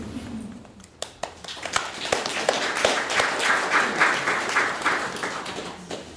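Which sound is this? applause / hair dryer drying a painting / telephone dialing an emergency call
applause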